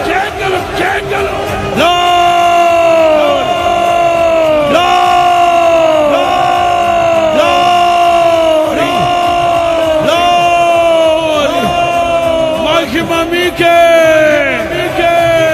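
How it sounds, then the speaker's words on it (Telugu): A church congregation at a New Year's worship service shouting and cheering together in repeated loud swelling waves of voices, with a rising cry in each burst, dense and close across the whole stretch. "కేకలు"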